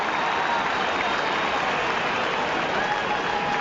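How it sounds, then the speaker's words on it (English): At an AFL match between Essendon and Adelaide, a large stadium crowd applauds and cheers after a goal. The noise is a broad, continuous wash heard at a distance with a thin, broadcast-limited quality, steady throughout. "Plenty of applause for Brendan Goddard for the supply."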